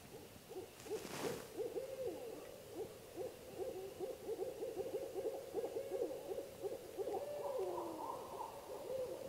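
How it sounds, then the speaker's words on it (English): Owls hoot repeatedly in rapid, excited bursts on a Missouri property at night, a continuous wavering chorus of moderate loudness over faint background noise, with a brief rustling thump near the start. "We got owls. They're going crazy."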